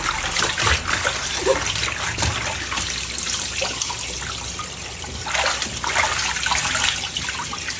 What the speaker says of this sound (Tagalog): Banlawan natin ng 3 beses.